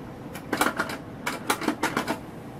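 The cassette mechanism of a Sony CMT-HPZ9 tape player gives short, sharp clicks and clacks in a few quick irregular bursts, close and isolated.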